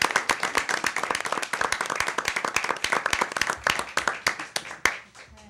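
An audience gives applause for student winners at a school event, with brisk, dense hand clapping that carries on steadily for several seconds before tapering off with a few final claps.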